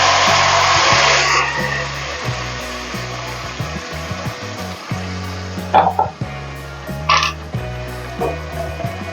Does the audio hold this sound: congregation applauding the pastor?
no